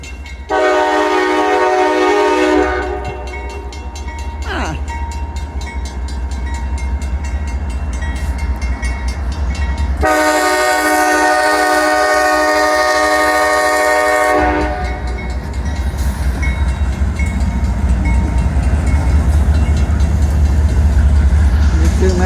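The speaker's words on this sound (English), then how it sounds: "here's a little train video." A train rumbles past close by in snow in Mount Hope, West Virginia, sounding two long loud horn blasts over the steady roar of the cars rolling along the tracks.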